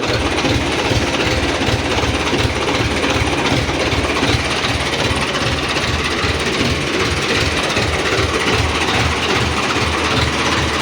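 A tractor engine idles at normal speed in cold weather with a covered, closed-in section, giving a steady, loud, rapid pulsing chug with a slightly rough, cracked tone that continues evenly throughout.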